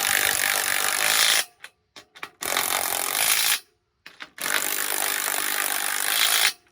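A power tool drives and snugs bolts on a MAX Boat Lifts canopy frame during assembly, sounding in three loud, sustained whirring bursts separated by short pauses and brief blips, close by with no talk.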